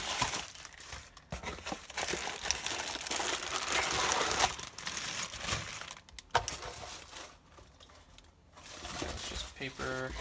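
Packing paper crinkles and crumples in bursts while a LEGO box is unboxed, close and papery with brief pauses, as a person talks intermittently.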